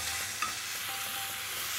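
Onions for curry cooking in a pan over medium-low heat, giving a soft, steady sizzle with a faint stir, quiet and continuous.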